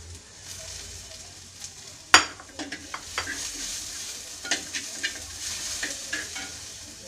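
Onions frying in a pan for pork vindaloo give a steady close sizzle, broken by a sharp spoon knock and a run of scraping stir strokes and small clinks.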